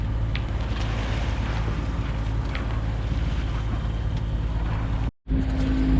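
A yacht motors at sea under its engine in light wind, a steady low drone with harmonic hum and wind rush running continuously, a brief dropout near the end, no voices.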